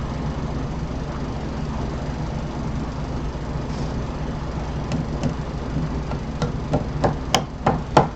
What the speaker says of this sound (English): And then I'll hammer these home.